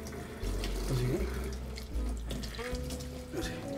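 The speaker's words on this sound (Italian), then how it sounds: "Andiamo a sciacquarlo sotto l'acqua. Acqua fredda, mi raccomando" Cold tap water runs steadily into a kitchen sink while a sea bream is rinsed, the splashing stream continuous and close, with someone talking over it.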